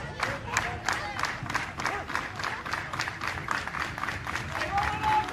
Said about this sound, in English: There's so much emotion in the background with the kids and their friends and their families cheering them on.